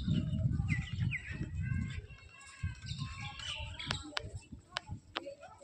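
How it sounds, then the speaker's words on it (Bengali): A flock of pigeons gathers outdoors, with scattered chirps and soft coos over a low murmur of voices and background rumble. "কত পায়রা দেখো গাইস"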